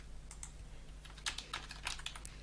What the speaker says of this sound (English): When a user starts typing in suggestion input box